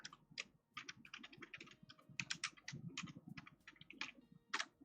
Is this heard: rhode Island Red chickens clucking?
no